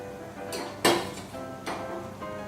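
A cooking pot lid lifted off while soya chunks boil, a sharp close metallic clank followed by softer rattling contacts, brief and isolated in a quiet kitchen.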